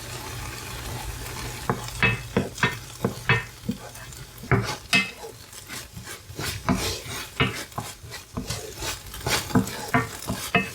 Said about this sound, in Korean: 이제 지글지글 소리가 나면서 이제 수분이 빠지기 시작합니다